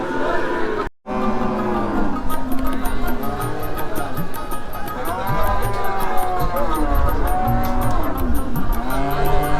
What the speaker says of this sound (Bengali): বিশাল আকারের একটা গাভী গরু দেখতেছি আজকের হাটের সবচেয়ে বড় গাভী হচ্ছে এটা